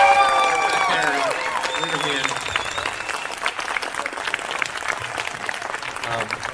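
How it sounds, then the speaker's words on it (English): An audience at a LEGO convention Q&A applauds, steady crowd clapping that carries on behind a music-like tonal sound early on and faint voices. "we're going to give a round of applause to John and Joshua Hanlon"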